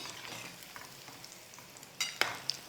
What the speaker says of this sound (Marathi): तुम्ही जसजसं तळत जाल तसं तसं याचे लेयर्स थोडेसे मोकळे व्हायला सुरुवात होते